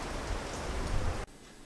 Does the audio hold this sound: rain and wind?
yes